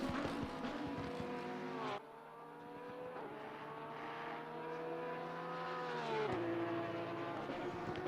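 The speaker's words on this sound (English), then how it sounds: "Luke cruising in that Porsche as the sun is starting to set." Porsche GT3 race car engine in a racing video game at Silverstone, a steady sustained drone with shifting tones and a gear change near two seconds, continuous at moderate level with no talk.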